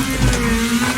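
A rally car engine in the racing game Wreckfest, a steady droning hum with slight throttle modulation, close and continuous, no talk.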